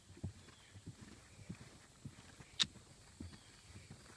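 Horse Picaro cantering in a riding session, a steady rhythm of soft, close hoofbeats falling about every half second, with one brief sharper click partway through.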